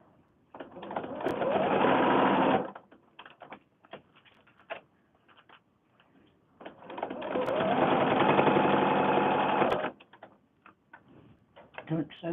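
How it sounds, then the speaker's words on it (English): A sewing machine stitches fabric for a fabric book in two bursts of about two and three seconds. Steady rapid mechanical chatter alternates with quiet gaps where a voice speaks and small handling clicks sound. "I found your machine really doesn't like sewing over pins"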